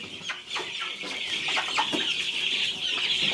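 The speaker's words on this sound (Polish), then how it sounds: "A kurczaki dzisiaj zamknięte wszystkie. Biedne kurczaki." Several chickens cluck and murmur close by, soft overlapping clucks over a steady background hum.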